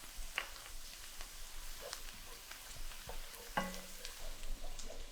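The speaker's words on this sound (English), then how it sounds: "Now add in 2 minced cloves of garlic and cook for 30 seconds," Minced garlic and shallot cooking in butter in a pan for lemon chicken piccata, stirred constantly: a quiet, crackling sizzle with scattered pops and light utensil clicks, close and soft.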